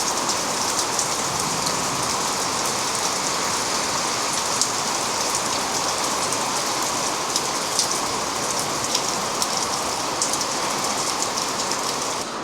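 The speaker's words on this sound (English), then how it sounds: "I'm not sure you're going to be able to hear me over the rain." Heavy rain pours down outside a metalworking workshop, a dense and constant hiss of drops drumming on the roof and surfaces, loud and unbroken with no talking.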